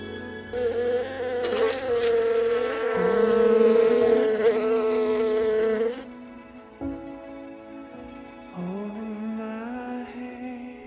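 A bee buzzing near flowers, a steady close drone with wavering pitch that swells, then drops to a thinner, quieter hum with brief rises and dips.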